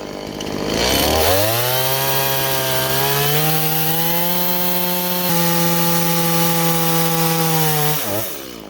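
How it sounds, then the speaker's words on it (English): A freshly sharpened Stihl MS362 chainsaw milling lumber roars up to a loud, steady high-pitched cutting whine that holds for about seven seconds under load before dropping off, close and continuous. "I just correctly sharpened up my MS362 here, and what I'm getting ready to do is I'm gonna go ahead and start milling some lumber"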